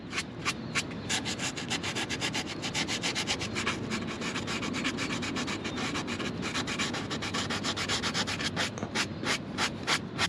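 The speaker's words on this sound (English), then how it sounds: "You just got to rub it a little bit, find a clean spot on your sanding sponge" A sanding sponge scrubbed back and forth over rusty metal on a stock Jeep, giving rapid rhythmic rasping strokes, close and steady for the whole stretch with no talking.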